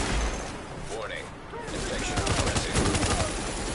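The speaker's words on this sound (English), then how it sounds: "Should I use my machine gun?" Gunfire in a video game, a clattering burst of rapid shots building toward the end amid game ambience, with a voice talking over it.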